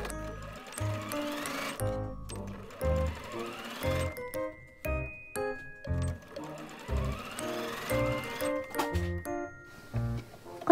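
A sewing machine stitches the sides of a frilled drawstring bag through layered outer and lining fabric, working in short bursts of rapid mechanical clatter with brief pauses between runs, heard close and alone.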